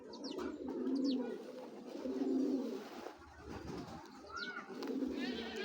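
Pigeons coo close by in a repeated rhythm of soft, throaty bursts, with a few faint chirps between them.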